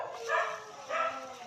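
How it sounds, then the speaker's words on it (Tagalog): Pet dogs outside a home let out two short, muffled bow-wow barks about half a second apart, heard at a moderate distance against quiet surroundings. "Ang ingay-ingay talaga ng aso namin sa labas."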